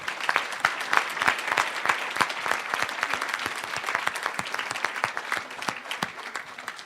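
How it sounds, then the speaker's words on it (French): An audience at an internal awards trophy ceremony claps steadily, a moderately loud, even stretch of applause from a modest crowd, with no talking over it. "On va l'applaudir."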